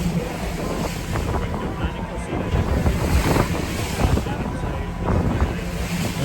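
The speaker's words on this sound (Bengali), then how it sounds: "বেশ ঢেউ" Rough ocean waves off Cape Town heard from a rocking boat heading toward Seal Island, a steady churning wash with gusty wind buffeting the microphone throughout.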